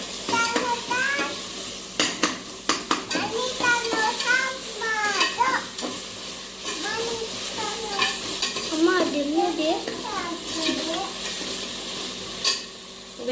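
Onion and tomato frying with ginger garlic paste for chicken biryani, a steady sizzle under frequent spoon scraping and stirring against the pan, with a faint voice or birdlike chatter in the background.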